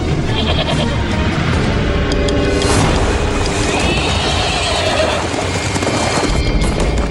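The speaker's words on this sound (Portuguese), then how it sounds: "É o cavalo." A horse whinnies loudly amid a dense, continuous wash of animal sound, with bleat-like calls and a suggestion of hoofbeats mixed in, close and busy throughout with no talking.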